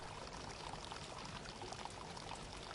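Steady, continuous splashing of water pouring from an Inca stone fountain at Machu Picchu, a dense broadband rush with no pauses and no voices.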